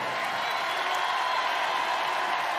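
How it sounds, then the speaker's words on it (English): Basketball arena crowd during a timeout in a TBT 2025 Round of 32 game between The Ville (Louisville alumni) and Sideline Cancer: a steady, dense roar of many voices and cheering fills the hall at a constant level throughout. "Sideline Cancer has to contend with the crowd for the first time."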